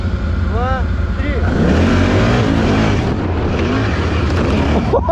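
Can-Am Outlander 1000 ATV fitted with a CVTech variator, revving hard in high gear with all-wheel drive engaged, close and loud, its engine note rising and sustaining with voices audible underneath.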